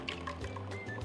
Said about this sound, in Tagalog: Buhos na natin tong cream mixture or gulaman mixture.